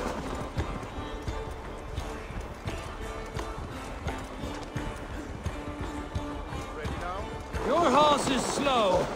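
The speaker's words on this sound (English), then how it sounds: "Your horse is slow." Horse hooves gallop in the Assassin's Creed Valhalla game, a rapid rhythmic clip-clop under spoken dialogue, with a louder vocal outburst near the end.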